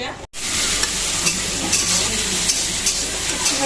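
Loud, steady sizzling of dried fish frying in a pan after a brief pause, with occasional scraping of a utensil stirring the food.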